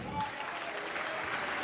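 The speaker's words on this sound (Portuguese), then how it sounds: "vamos aplaudir, igreja" A church congregation applauds during a Portuguese-language evangelical service, a steady, dense wash of many hands clapping at moderate distance with no clear breaks.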